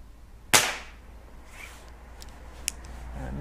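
A single sharp crack from a Reximex Mito air rifle firing, close and abrupt, followed by a quiet room with a faint metallic tick a couple of seconds later.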